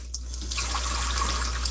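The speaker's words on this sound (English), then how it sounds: "and you turn the water on low." Kitchen tap turned on low to rinse potatoes before scrubbing, a steady soft stream of running water that starts abruptly and continues alone.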